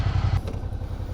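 A 2019 Suzuki V-Strom 650 adventure bike with its stock exhaust gives a brief, steady low rumble with a rapid pulsing beat, close and fairly loud.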